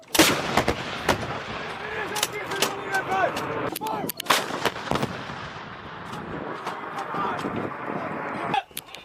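An M777A2 howitzer fires in heavy, repeated booming blasts, loud and close, with sharp reports and rumbling echoes. Crew members shout commands over the firing.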